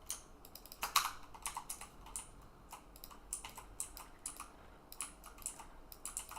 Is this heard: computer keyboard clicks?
yes